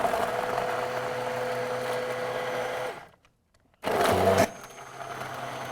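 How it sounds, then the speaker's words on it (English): An immersion blender whirs loudly as it blends a smoothie, a steady motor drone that cuts out abruptly, then starts again in a brief harsher burst before dropping to a lower hum. "always make your smoothies with one of these emulsifiers? Immersion blender."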